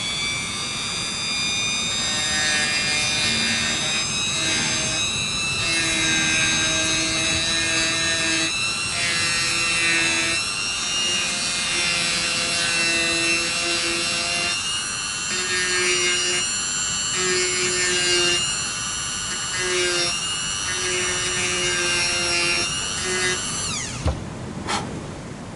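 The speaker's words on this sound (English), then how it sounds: "here's the other bit we still do need to do with the Dremel, and hopefully it won't jump anywhere" A Dremel rotary tool trims the body overhang on a Fender Jaguar guitar, a high steady whine that pulses with repeated short passes and pitch dips, close and loud, ending with a brief clunk.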